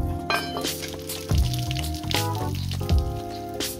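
Water trickles and drips steadily from a Chevy 350 engine, with splashing and occasional metallic clinks, close up.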